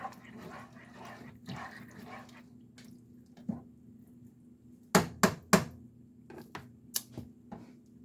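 Canned black beans and light red kidney beans stirred in a strainer: quiet wet shuffling, then a cluster of sharp metallic clacks and a few drips, with no voices.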